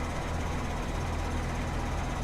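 A modded tractor in Farming Simulator 19 idles steadily, a continuous low engine drone with no change in pace, heard alone at moderate loudness.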